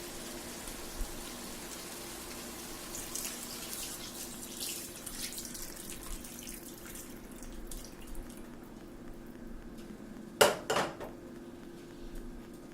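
Water being poured into a cooking pot for chicken biryani makes a faint, steady splashing and trickling in a quiet kitchen, and near the end there is a sharp clatter of metal cookware.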